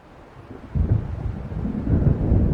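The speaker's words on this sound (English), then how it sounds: "It seems there's a storm coming." A thunderstorm approaches in the video game Alan Wake: low rolling thunder swells after a quiet start and keeps rumbling loud and close over a wash of rain, with no voices.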